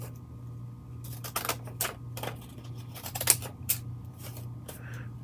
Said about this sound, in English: let me reach over and grab us a pair of scissors